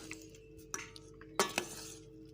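Sweet potato and banana chaat with chaat masala being mixed in a bowl, with soft scattered stirring scrapes and a few sharp spoon-on-bowl clinks, close and fairly quiet.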